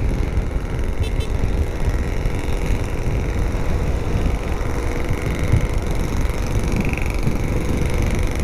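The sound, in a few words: noisy car on the road ahead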